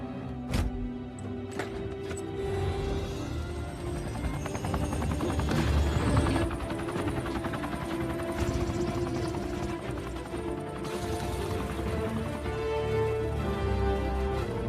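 A helicopter in a Captain America action film scene thrums under dense movie sound, with heavy thuds, crashes and metallic impacts layered over a sustained rotor and engine roar.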